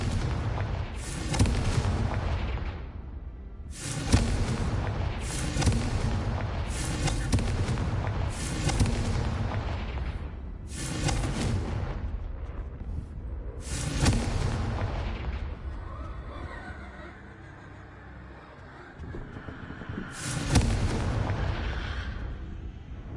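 Fire-blast spell explosions from a video game boom out in a string of about seven heavy, broad blasts, each decaying into rumble, with a gap before the last one.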